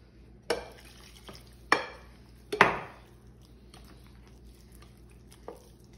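Arepa dough mixed by hand in a bowl: a few soft squishy kneading bursts, with the strongest squelch near the middle, set against a quiet background with no talking.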